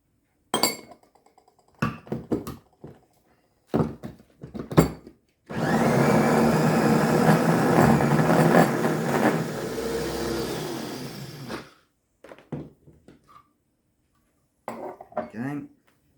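A blender whirs loudly through dates for a raw vegan peppermint slice, running about six seconds in one sustained grinding burst, with someone talking briefly before and after.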